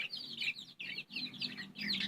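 Chickens and Turkish naked-neck chicks clucking close by in steady bursts, several birds calling over one another with brief pauses between.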